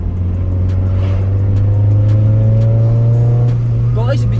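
A SOHC VTEC car fitted with a D15 intake manifold, running on 12 valves, holds a loud steady engine drone that climbs in pitch as it revs. A voice speaks briefly near the end.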